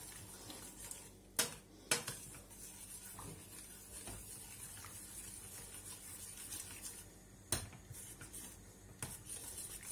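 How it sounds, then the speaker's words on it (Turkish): A spoon stirs flour quickly into a pot of baby soup, giving a soft continuous scraping and swirling with a few sharper clinks against the pot, quiet and close, with no voices. "Ve çorbamın içerisinde hiç topak kalmaması için hızlıca karıştırıyorum."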